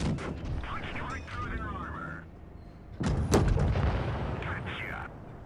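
Two loud booming cannon shots from a British Tier 5 AT2 tank destroyer firing APCR rounds in World of Tanks Blitz, each a sharp blast with a trailing rumble, set among game engine and effect sounds.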